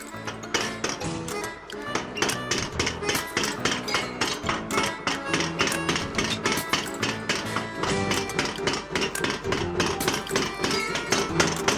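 Mechanical power hammer pounding iron in a blacksmith forge in the Gruyère region, a fast steady run of sharp metallic blows repeating throughout at close range, loud and without talk.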